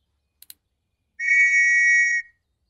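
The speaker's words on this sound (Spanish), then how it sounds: "Un silbato." After two tiny clicks, a small toy-like whistle sounds one steady, shrill blast lasting about a second, clear and close in an otherwise silent space.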